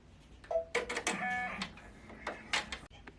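Close up, a sewing machine stitches fabric down onto a notebook cover in several short whirring bursts separated by brief pauses.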